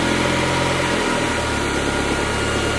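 A 2JZ engine swapped into a Mustang runs steadily on drive-by-wire throttle, idling with a close, continuous mechanical drone and a slight shift in tone partway through, with no voices.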